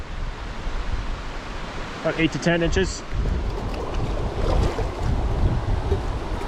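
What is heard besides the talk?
wind at lakeside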